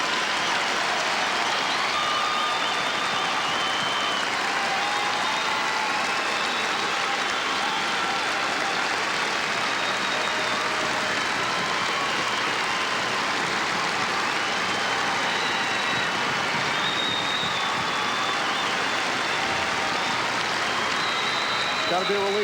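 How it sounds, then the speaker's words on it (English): A wrestling crowd at Veterans Auditorium gives a standing ovation at a state championship, a dense and continuous roar of clapping that fills the hall at a steady high level for the whole stretch, with no voices standing out above it. "And a standing ovation from this crowd at Veterans Auditorium"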